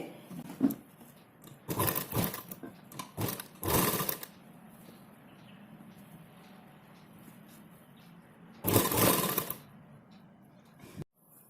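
Sewing machine stitching a blouse seam a quarter inch wide, heard in several short bursts of rapid, buzzing needle action separated by pauses, moderately close and with no talk.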